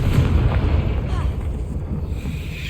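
A Confringo fire spell bursts in Hogwarts Legacy, giving a loud, dense rumbling blast that fills the whole moment, with a low roar sustained and slowly fading under continuous game noise.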